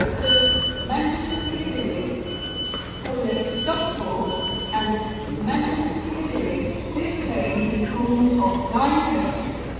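A refurbished ex-West Midlands Railway train unit at Stoke-on-Trent station gives a steady rumble with high wheel squeals and tonal whines across the whole stretch, with voices heard over it.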